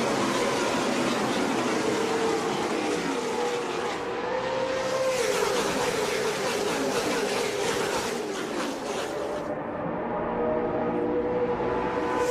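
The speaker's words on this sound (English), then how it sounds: "the sound of these Gen 4 cars at the super speedways back then" Gen 4 NASCAR stock cars race at the Daytona superspeedway, a loud continuous engine roar with rising and falling pitch as packs of cars sweep past, filling the whole stretch with no talk.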